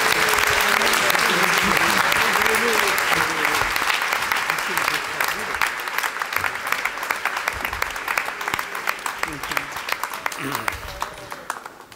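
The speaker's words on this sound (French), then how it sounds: "Je pense qu'on peut les applaudir." An audience at a New Year wishes ceremony breaks into sustained applause, loud and dense at first and gradually thinning, with voices and cheers mixed in around the clapping.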